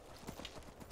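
Horse hooves clip-clop in the video game Skyrim, a brief run of soft, evenly spaced footfalls ending in one louder thud, heard alone without talk.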